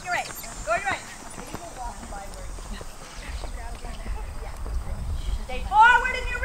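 A horse canters during a riding clinic, its rhythmic hoofbeats under an instructor's frequent spoken directions, with a louder burst of voice near the end.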